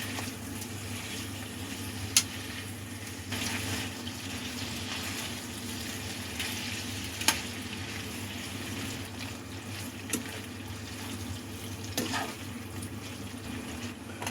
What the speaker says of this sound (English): Let's go ahead and fry it until it's all cooked.